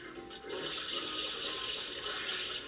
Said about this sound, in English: This is the first time I've ever seen water-powered slots. Water powered, huh? So if I put some water in here,